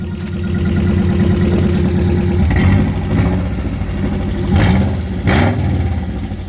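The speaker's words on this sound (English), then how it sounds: "it sounds a little like rod knock." A Subaru GC8 car engine runs loud and steady, revving up a few times with a rough, knocking undertone from rod knock beneath the rumble.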